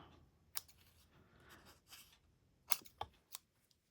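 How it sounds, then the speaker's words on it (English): New scissors cut paper for Christmas tags in a quiet room, several crisp snips and short slicing strokes at irregular intervals, close and clear with no talking. "I bought some new scissors."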